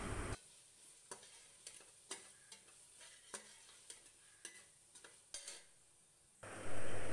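Beef pulao in a pot being stirred as salt, coriander powder and cumin are mixed in. A spoon scrapes quietly in about a dozen irregular strokes, with no voices, before a louder burst at the end.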